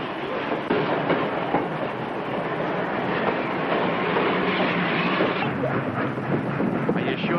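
A steam-era passenger train rumbles past at close range in a 1932 film scene, a loud, steady rolling clatter of rail cars that continues throughout with no talking.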